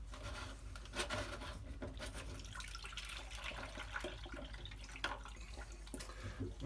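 Water drained from a Whirlpool washing machine pours and splashes into a bowl in a steady stream, with gurgles and occasional louder splashes, faint and close.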